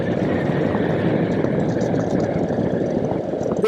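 A Honda Fury chopper's large engine runs on a Dubai road, a steady, dense low rumble with wind noise, loud and constant, with no talking over it.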